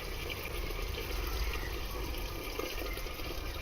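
Coolant drains from the radiator of a Mazda MX-5, a steady continuous splashing rush of fluid pouring into a container, close and unbroken throughout.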